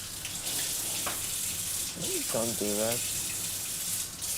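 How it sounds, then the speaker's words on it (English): Tap water running and splashing at a sink as someone splashes their face, a steady broadband wash throughout with a brief spoken line partway. "Hold on, I need to splash my face with water."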